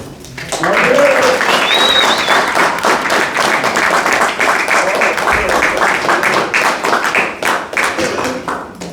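Sustained audience applause at a Toastmasters club meeting in Winter Park welcomes a speaker to the lectern, steady dense clapping filling the room for about nine seconds with a few scattered voices beneath.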